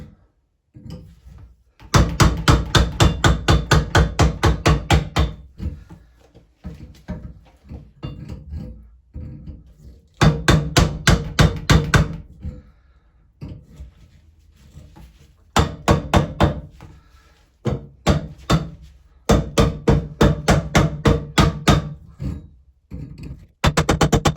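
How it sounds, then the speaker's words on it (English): A hammer taps on a clamped Pfister shower cartridge during a shower valve repair, delivering rapid runs of sharp metallic knocks in several bursts separated by short pauses, loud and close. "So I'm just clamping on the edge and tapping lightly."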